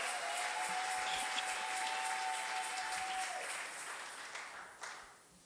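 A church congregation claps in a sustained round of applause that fades toward the end, with a brief tone sounding under it.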